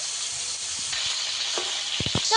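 Aar fish sizzles in hot oil, a steady bright hiss with a few soft pops and quick stirring knocks near the end, close by and without voices.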